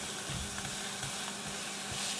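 Portobello mushroom burger caps sizzle steadily on a Ninja Foodi XL indoor grill, a close, continuous frying hiss with a few soft pressing thumps and no talking.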